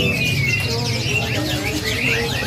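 A tame yellow sun conure parrot gives sharp chirping calls amid a busy bird-market din, loud and close, with faint voices in the background.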